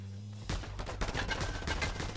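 Rapid gunfire in Just Cause 2, rounds pinging harmlessly off a tough enemy; a dense, continuous burst of shots with sharp metallic ricochet ticks, loud and steady throughout.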